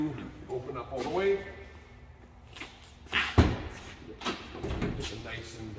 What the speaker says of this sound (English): the doors on the transit vans do open up all the way